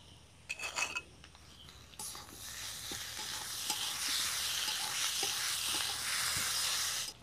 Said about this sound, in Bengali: এর মধ্যে এবার দিয়ে দিব পোস্ত বাটা।